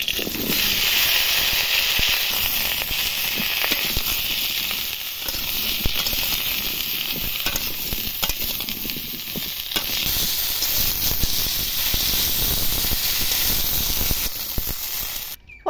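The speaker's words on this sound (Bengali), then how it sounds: "দিয়ে এবার পটলগুলো ভেজে নেব।" Pointed gourds (potol) fry in hot oil in a kadai, producing a loud, continuous sizzle and hiss, crackling with small pops throughout.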